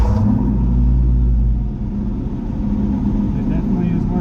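A turbocharged LS engine idles loud and rumbling through an exhaust valve cutout, with a heavy low drone that eases slightly partway through, close and steady throughout.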